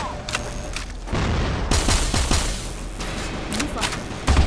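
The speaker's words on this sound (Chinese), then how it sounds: "手雷，手榴弹来了。 Fire the hole！" A hand grenade explosion in the video game CF Mobile: booming blasts mixed with rapid gunfire bursts, loud and close, with a few sharp cracks piling up over a few seconds.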